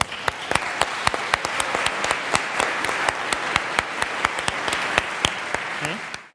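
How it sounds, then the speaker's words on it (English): Audience applause for a jury leaving at the closing speeches of a 2011 final, a steady roomful of clapping with a few sharp, distinct claps standing out at regular intervals before it cuts off. "please give them a round of applause"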